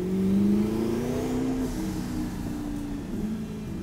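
Twin-turbo Audi R8 widebody revving while driving, heard through an open window: a strong engine note rising and then easing back, with a steady drone underneath and no talk.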